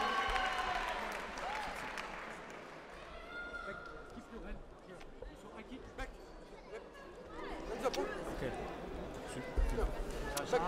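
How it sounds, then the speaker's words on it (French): Scattered applause from a small crowd at a muay thai fight after the first round, faint and distant, mixed with shouting, chatter and coaching voices. "Premier round, on peut les applaudir."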